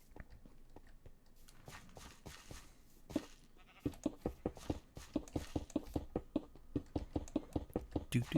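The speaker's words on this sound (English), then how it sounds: "There's my sheeps. Hey, sheeps. Some noisy sheeps." Sheep in the Minecraft video game bleating repeatedly, a quick series of short, rhythmic cries that grows denser and louder toward the end, with no talking over them.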